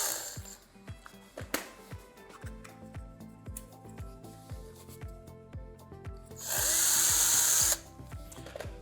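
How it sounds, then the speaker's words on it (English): A small 2mm bit is drilled straight through a 3D-printed PLA jig, with a repeating ticking rhythm of the drill turning and a louder, steady burst of motor whine near the end. "we're gonna drill straight through it with our 2mm bit"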